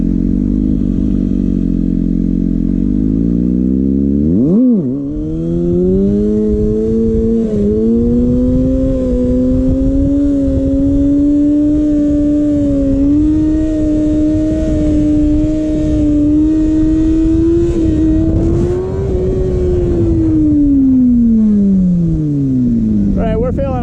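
A Kawasaki ZX6R motorcycle engine runs at a loud, steady idle close by. The rumble dips briefly, then climbs into a gentle sustained rev that rises and falls back toward idle near the end.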